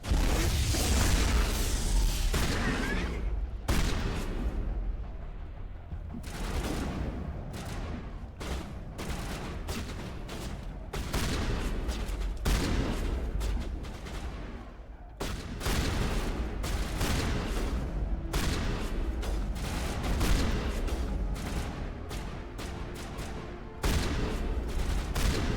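Shotgun fire in the video game Mass Effect, many loud booming blasts in rapid irregular bursts with brief pauses, sustained over a long stretch of combat noise, no voices on top.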